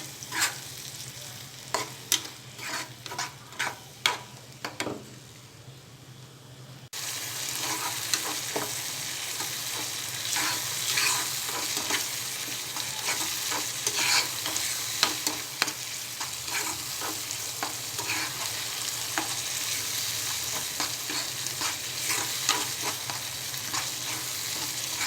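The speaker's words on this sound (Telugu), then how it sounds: "ఇది కూడా పచ్చివాసన పోయే వరకు ఫ్రై చేసుకోవాలి." Blended tomato paste fries in a pan for an egg curry, with a quieter sizzle and scattered spoon taps at first, then a louder, steady sizzle under continuous stirring and scraping.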